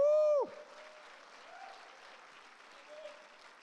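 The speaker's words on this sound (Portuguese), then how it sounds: "Se você recebe essa multidão, dê um aplauso ao Senhor Jesus." A church congregation at a pastors' gathering applauding for Jesus: a soft, distant wash of clapping across the room, following a short loud sung or shouted note at the start.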